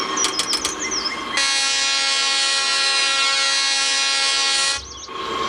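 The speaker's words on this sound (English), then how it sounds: "Let's test the horn." A DDF 40X locomotive horn from the TrainWorks video game sounds one loud, steady chord for about three seconds, cutting off sharply, with brief chirping sounds before and after.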